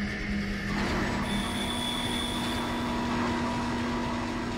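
A monorail train in the Dead Space video game arrives: a steady low mechanical rumble with a sustained hum and a faint high whine, continuous and moderately loud throughout.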